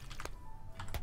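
Quick bursts of keystrokes tap on a computer keyboard during play of Cook Serve Delicious 2, close and fairly quiet, several clicks in an uneven rhythm with no voice.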